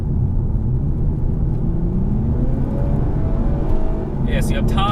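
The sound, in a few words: Toyota Camry TRD 3.5 V6 engine and exhaust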